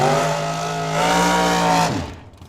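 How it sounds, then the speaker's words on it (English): Leroy Duran's Camaro roars down a drag strip with a loud, sustained engine howl at high revs, then the pitch drops sharply as it passes and fades away. "what we got going is Leroy Duran with his cool-looking Camaro"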